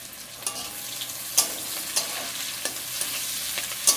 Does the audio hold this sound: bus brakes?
no